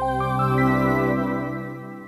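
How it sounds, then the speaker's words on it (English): A short, bright startup chime from a PSP handheld console plays alone, a single sustained harmonic tone that swells and then fades out over about two seconds. "If you're playing on PSP, it makes this sound."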